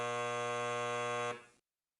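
An alarm buzzer from MakerPlot data-plotting software, a single steady harsh electronic tone held for just over a second and then cutting off with a brief tail, clear and alone.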